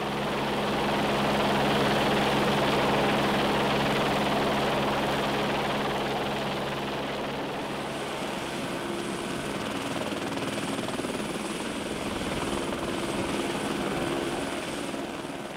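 A helicopter flies over an Indian Ocean island while spreading rat poison bait. Its loud, steady rotor and engine roar holds throughout and eases slightly over time, as though it is passing overhead and moving away.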